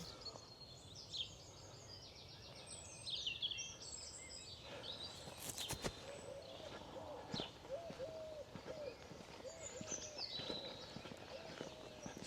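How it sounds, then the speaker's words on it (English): Small birds twitter and chirp faintly in the distance over a quiet outdoor hush, with scattered soft knocks and rustles. "you can hear the twittering of the birds, which is absolutely lovely"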